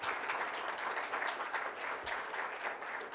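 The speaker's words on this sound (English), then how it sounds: "So please give another round of applause for all of our candidates for Ward 1 City Council." Audience applause for Ward 1 City Council candidates at a St. Paul council debate, a steady wash of many hands clapping throughout, fairly close and even in loudness.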